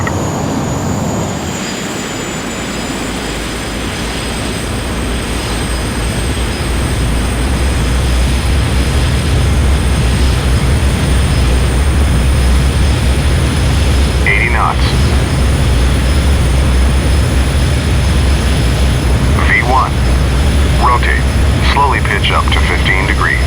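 A jet airliner's engines spool up in a flight simulator game, a steady loud roar and whine building over a few seconds and then holding high and constant throughout, with a thin tonal whistle riding on top.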